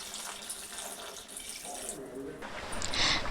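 Water splashes and runs into a cooking pot of drumstick and potato curry with prawn fritters, rising to a louder gush toward the end over faint background noise.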